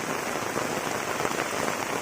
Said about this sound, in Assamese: তামাম বৰষুণ পৰি আছে